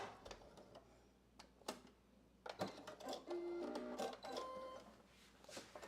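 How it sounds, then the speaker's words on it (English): A sewing machine back stitching a seam on a basic dress (McCall's 8053) at regular stitch length, giving a quiet rapid mechanical whir with clicks, briefly stopping and restarting. "I'm gonna back stitch and sew all the way down to that notch that I showed you guys"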